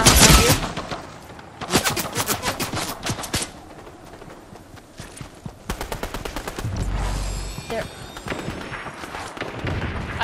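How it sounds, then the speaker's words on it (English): Rapid bursts of gunfire in the Fortnite video game, with several loud volleys and clustered shots repeating across the stretch, some sharp and close, others more distant. "Oh, I hear shots."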